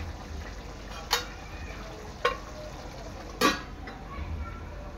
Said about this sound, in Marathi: आता आपलं चिकन आहे ना एक 10 ते 15 मिनिटं चांगलं शिजून घ्यायचं आहे।